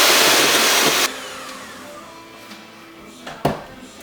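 Electric mixer whirring loudly as it beats sugar into banana bread batter, then cutting off after about a second, leaving quiet room sound and a couple of faint knocks.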